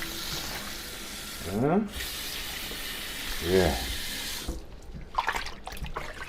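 Cold tap water runs steadily over a pork shoulder being washed in a sink, a continuous splashing hiss with brief interruptions as the meat is moved, and a short spoken word near the end.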